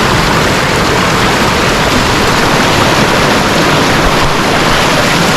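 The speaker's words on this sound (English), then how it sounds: "Yo, the river, this riverside is swift." A swift river rushes past close by, a loud, dense and unbroken roar of churning water with no pauses and no voices.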